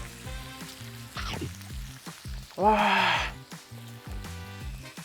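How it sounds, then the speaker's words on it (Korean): Pork belly fries in a pan with a soft, steady sizzle beneath background music, while a voice briefly exclaims partway through. "이 지글지글 소리 때문에 어, 너무 맛있어 보여요"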